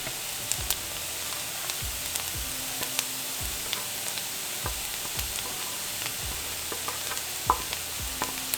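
Garlic cloves fry in a pan alongside pork loin, giving a steady low sizzle broken by regular, evenly spaced taps and scrapes of a utensil stirring, with no talking.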